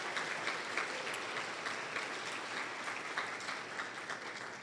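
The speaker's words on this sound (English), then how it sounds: "Let's give all of our students a rousing round of applause for their accomplishments." Audience applause for students at an AVID celebration dinner: a sustained, even round of clapping from a sizable room, moderately distant and unbroken, with no talking over it.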